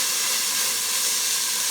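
Sauce poured into a hot pan for beef green chile sets off a loud, steady steam sizzle and hiss that holds evenly throughout, close up and alone with no talk.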